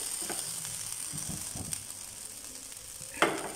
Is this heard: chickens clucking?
no